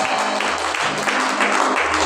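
A congregation of young people at a church service claps continuously, a dense, close, steady wash of many hands with slight surges and no voices on top.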